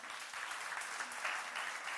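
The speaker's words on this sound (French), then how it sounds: "On va l'accompagner sous les applaudissements." Steady, dense applause fills a hall at a sports awards ceremony as a Miss Excellence Mayotte runner-up is welcomed, a continuous crowd clapping at moderate distance.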